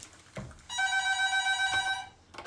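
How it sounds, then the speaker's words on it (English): A telephone rings in a radio station studio on WVBF, one sustained electronic ring lasting over a second, loud and close, after a brief knock and before a quieter start of another ring. "Oh, we got a phone call."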